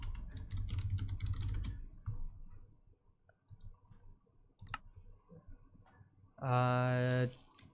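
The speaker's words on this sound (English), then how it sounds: "Let's just type in spawner real quick." Computer keyboard keys clatter in a quick flurry of clicks, then sparse faint taps follow, ending with a loud sustained electronic tone; a voice speaks at points.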